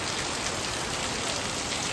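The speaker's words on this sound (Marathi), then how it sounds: "पावसाने दमदाराची हजेरी लावलेली" Heavy rain pours steadily onto a wedding haldi pavilion, soaking the mandap; a dense, continuous broadband roar of falling drops holds at an even level throughout, with no voices.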